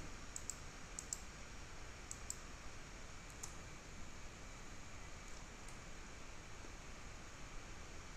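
Computer mouse clicking at a desk: soft, faint clicks in small groups and scattered singles under a steady background hiss.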